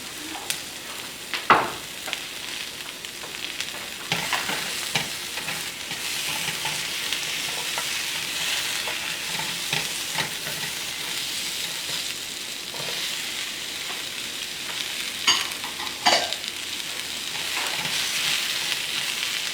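Summer squash fries in a pan with a steady, moderate sizzle, broken by occasional scrapes and clacks of a utensil stirring it, heard close and without any talking.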